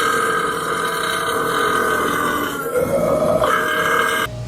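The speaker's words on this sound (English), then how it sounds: "the Pepsi makes you burp." One long, loud, close burp after drinking Pepsi, rolling and throaty, holding for several seconds before cutting off abruptly, with no talk over it.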